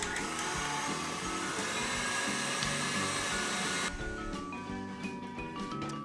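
An electric mixer beats cake batter for a pineapple upside-down cake with a loud, steady whirring hum that drops to a lower, quieter whine partway through.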